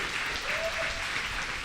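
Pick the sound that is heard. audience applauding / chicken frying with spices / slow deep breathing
audience applauding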